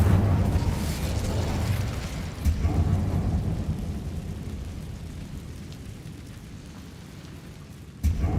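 Incendio fire spell cast in Hogwarts Legacy inside a closed, tomb-like mine: a loud, steady roaring, crackling rush of flame with a heavy rumble that swells near 2.5 seconds, slowly fades, then flares again briefly near the end.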